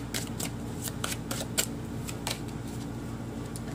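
Tarot cards shuffled to pull a clarifier give a quick series of soft riffling flicks and taps, close and fairly quiet over a low steady hum, with no talking.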